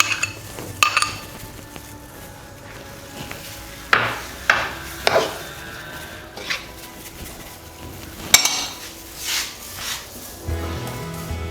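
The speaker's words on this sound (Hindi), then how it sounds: "मसाला जो था वो हमने अच्छे तरीके से दही के अंदर मिक्स कर दिया है।" Masala being stirred into yogurt in a bowl for spicy grilled fish, with a string of clinks and scraping knocks of a spoon against the bowl, close and fairly clear, no talking.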